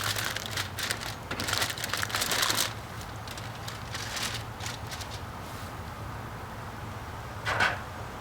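Aluminum foil being wrapped around smoked ribs beside a grill, giving bursts of crinkling and crushing over the first few seconds, then scattered softer rustles and one last crackle near the end, at moderate level over a low steady hum.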